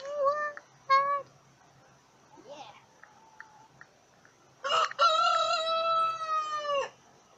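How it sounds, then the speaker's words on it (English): Loud honking calls from large birds, a couple of short cries followed by a long drawn-out harsh call, with quiet gaps between. "By the way, there are big birds above me."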